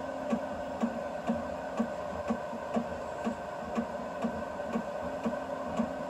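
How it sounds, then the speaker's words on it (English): A BIBO Touch X dual-extrusion 3D printer prints with both extruders running, giving a steady motor hum broken by soft rhythmic pulses about twice a second. "But it looks like both of them are printing, which is cool."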